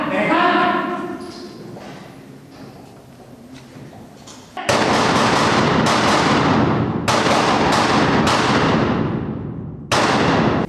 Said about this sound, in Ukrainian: ствол работаем холостыми патронами, потому что данный тир не предназначен для роботи із автомата